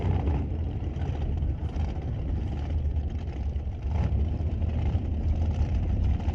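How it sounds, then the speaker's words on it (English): Steve Horn's 2017 TNT dragster roars through a burnout at an NHRA drag race at Mission Raceway, a loud, steady, heavy engine blare that holds near-constant for the whole stretch. "Healthy looking burnout."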